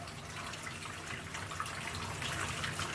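Maple sap poured through a small pre-filter into a pan while boiling syrup, giving a steady, continuous trickling and splashing of liquid close by with no talking.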